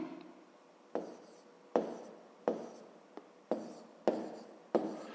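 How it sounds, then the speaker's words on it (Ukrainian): Pen writing on paper during a math exercise, with a series of close, quiet scratching strokes, each starting with a small tap, spaced roughly every second. "Пишемо."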